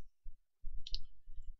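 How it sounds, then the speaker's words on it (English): Computer mouse clicks while selecting image files, a few soft close taps with one sharper click in the middle, over quiet low rumbling. "Use control and click so you can select more than one."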